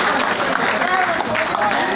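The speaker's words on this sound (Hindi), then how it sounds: "एक जोरदार ताली दो डॉक्टर साहब को" An audience claps to welcome a guest at a community gathering, with steady, fairly close clapping while a voice talks over it.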